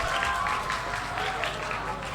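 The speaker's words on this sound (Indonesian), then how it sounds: "silahkan tepuk tangan" Audience applause at a Hari Santri 2022 ceremony: dense, even clapping from a large crowd, steady and moderately loud with no pauses.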